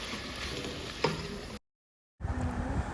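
Chana dal with ground coriander sizzling and being stirred in a hot pan, a soft steady frying hiss with a clink of the spoon, cut by a brief silent gap before the sizzle resumes.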